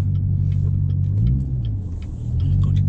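A modified Corvette engine rumbles with a deep, loud idle burble that swells and dips as it is lightly revved, heard up close with no talking.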